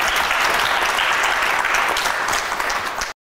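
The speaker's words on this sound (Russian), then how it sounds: "Ваши аплодисменты." An audience in a hall applauds a child prodigy, a dense, sustained burst of clapping from many hands at steady volume, ending abruptly after about three seconds, with no talk over it.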